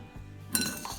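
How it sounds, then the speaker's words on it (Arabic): A small spoon clinks against a bowl while stirring popcorn kernels with vegetable oil or butter and salt, a quick bright metallic tap or two, close and alone. "ونخلط الكل مع بعض"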